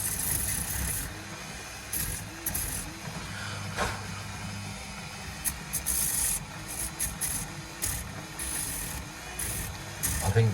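A 1 inch sanding disc grinds and rubs in short irregular bursts, with scratchy gritty strokes broken by brief pauses, close and moderately loud with nobody speaking.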